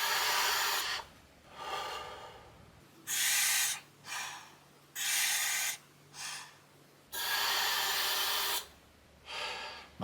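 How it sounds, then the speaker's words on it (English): Someone breathes in and out through a Boost Oxygen canister mask, a run of loud, airy breaths with short quiet gaps between them, close up and with no talking. "I'm going to do 5 normal breaths with this now without holding my breath each time, just sort of breathing normally."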